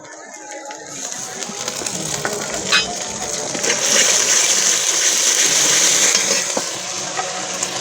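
Ginger paste hisses and sizzles with browned onions in a frying pan for spinach paneer curry, a steady close frying noise with stirring scrapes and a brighter hiss swelling midway.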